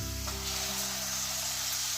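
Cleaned prawns hit a hot pan of softened onions and sizzle loudly and steadily, a bright continuous frying hiss with a faint low hum beneath, no voices.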